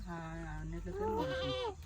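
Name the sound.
goat bleating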